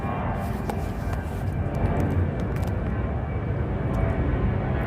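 An airplane flies overhead with a steady, broad engine roar that stays loud and even throughout and carries no speech.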